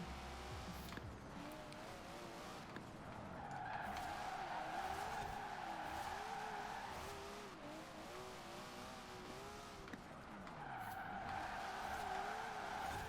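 Nissan 240SX drift build sliding through Forza Horizon 4 on a clear day, engine droning and revving with wavering pitch while tires squeal in long sustained bursts, steady and close throughout.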